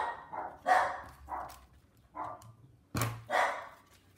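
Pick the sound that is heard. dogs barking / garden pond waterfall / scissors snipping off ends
dogs barking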